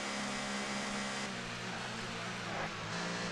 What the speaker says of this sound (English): I think we're catching up to a car. I can hear him in front.